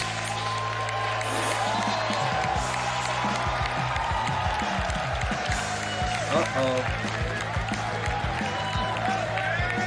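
Audience applauding and cheering for the Splatoon 2 producer at a live game showcase, steady crowd clapping throughout with a voice briefly talking over it.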